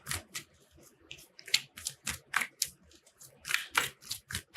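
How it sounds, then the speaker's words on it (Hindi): Tarot cards are shuffled by hand up close, producing a quick run of crisp, papery riffling bursts and snaps in an irregular rhythm. "One more shuffle."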